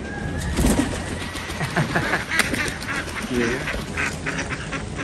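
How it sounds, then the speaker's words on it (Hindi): Ducks quack repeatedly at close range, with other bird calls mixed into a busy outdoor backdrop. "ये जो है ना मोटी मोटी बतखें"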